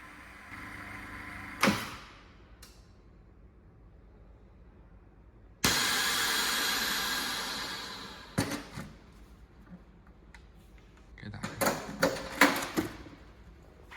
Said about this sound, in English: Place the wrapped ingredients in the vacuum packaging machine.